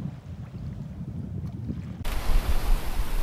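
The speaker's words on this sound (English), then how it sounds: "Sailing west down the south coast of St. Thomas. Single reef main and working jib." Sailboat under reefed main and working jib off the south coast of St. Thomas, with steady wind rush and water wash that grows louder and fuller partway through, no voices.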